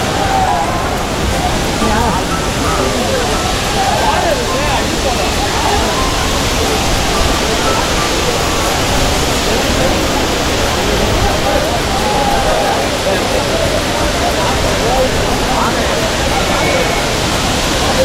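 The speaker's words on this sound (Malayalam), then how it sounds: "അതും അടിപൊളിയായിട്ടുള്ളൊരു വെള്ളച്ചാട്ടമാണ് കേട്ടോ" Kuttalam waterfall gives a loud, steady, unbroken roar of rushing water close by, with a faint murmur of crowd voices mixed into the wash.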